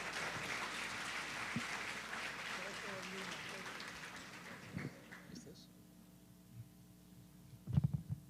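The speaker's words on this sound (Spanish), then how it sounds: "Un aplauso por favor para él." An audience at a religious gathering applauds steadily for about five seconds, a soft, diffuse clatter that fades into quiet, followed by a few brief thumps.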